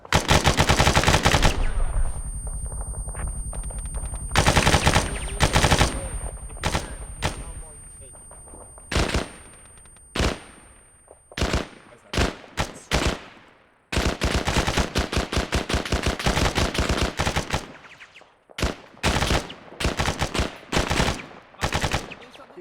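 Machine guns fire in an Antistasi military game battle: loud, sharp bursts of automatic gunfire in repeated volleys with short silent gaps between them, some single shots mixed in, all close and dominant.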